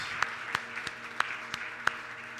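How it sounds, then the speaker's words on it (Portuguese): A church congregation at a Sunday celebration service claps in a slow, even rhythm, with a handful of distinct, sharp claps standing out over faint, quieter hand-clapping. "Você pode aplaudir a palavra de Deus?"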